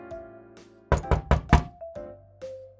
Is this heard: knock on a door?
yes